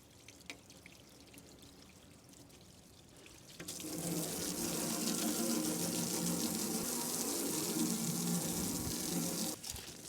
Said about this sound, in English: Give the window a good rinse here